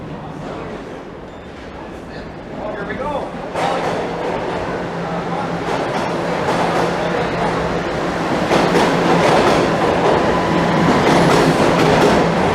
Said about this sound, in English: My train has arrived.